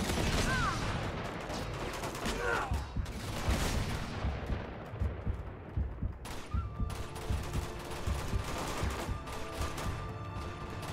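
Enemy gunfire in the video game Uncharted 2, rapid bursts of automatic shots and heavy blasts rattling loudly and continuously, thinning into scattered cracks and mechanical clatter toward the end.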